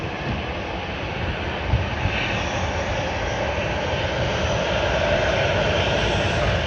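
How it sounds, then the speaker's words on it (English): Virgin Australia jet airliner VH-ZNF, about eight years old, roars steadily through its takeoff roll at Sydney Airport on a Santiago service, a broad continuous engine rush heard from a distance with no talk. "Sydney to Santiago service has begun its takeoff roll"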